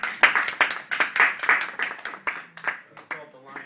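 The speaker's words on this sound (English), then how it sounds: "Let's get a round of applause." A small audience at a science event claps in a loose, uneven burst of distinct hand claps, with a voice speaking partway through as the clapping thins out.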